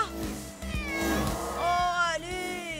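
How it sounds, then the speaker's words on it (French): A grandmother's house cat meows in several drawn-out, wavering calls close by, partly overlapping a busy background of cartoon sounds and voices. "C'est le chat de ma grand-mère."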